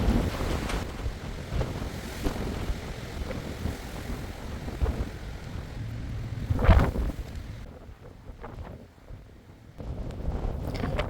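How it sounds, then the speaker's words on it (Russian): Strong wind gusting outdoors near a shoreline, buffeting the microphone with a steady roar and rushing noise that swells into a louder gust midway, then briefly eases before picking up again. "Ветер, по-моему, усилился еще сильнее."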